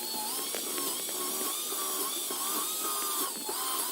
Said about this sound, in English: To drill the hole, move the drill bit in roughly 1/4 inch, move it back out and let the shavings be removed